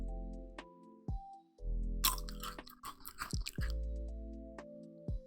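Crackers crunched and chewed close to a microphone, a burst of crisp bites and chewing between stretches of droning music.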